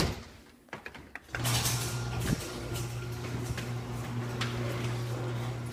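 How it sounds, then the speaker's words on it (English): A garage door opens with a sustained low mechanical hum and rumble that starts after a few soft knocks and runs steadily to the end, fairly loud and near. "let's open up this garage door."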